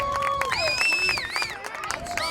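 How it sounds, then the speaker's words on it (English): Fans at a SUNY Potsdam men's soccer match against RPI cheer with a distant crowd swell, while an announcer talks steadily over it and shrill whistles or sirens glide up and down. "Potsdam fans have something to cheer about here"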